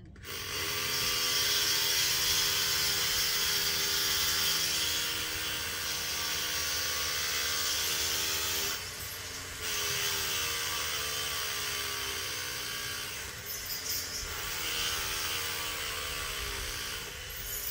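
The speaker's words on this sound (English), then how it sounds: "I'll do the drilling" A power drill whines steadily at high pitch, pausing briefly twice before resuming, close by and loud throughout.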